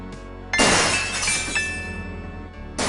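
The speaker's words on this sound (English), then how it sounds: "hears the faint sound of breaking glass" Glass shatters in the Gabriel Knight: Sins of the Fathers game, a sharp crash followed by tinkling fragments, then a second burst of breaking begins just as the sound cuts off.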